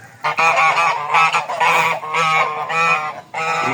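A flock of domestic geese in a farm barn honks loudly and close by, several harsh calls overlapping in quick bursts with brief pauses between.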